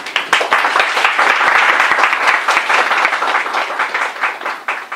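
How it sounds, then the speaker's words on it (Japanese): A church congregation at a Sunday service applauds a pastor loudly and close by, with crisp individual claps at the start filling into steady clapping that thins near the end. "改めてですね、高瀬先生に拍手。"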